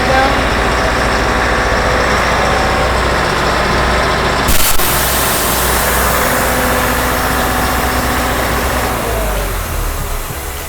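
A MaxForce generator engine runs with a loud, steady mechanical drone that shifts slightly partway through and then eases off a little toward the end.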